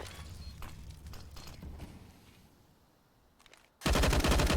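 Rapid automatic gunfire in Counter-Strike on the Nuke map, sharp bursts early on fading to quieter shots, then a loud dense spray bursting in close near the end.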